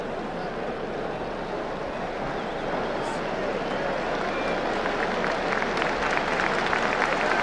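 A stadium crowd at Colombes applauds as the Hungarian footballers take the field, a broad, steady roar of clapping that swells slightly, with a commentator talking over it.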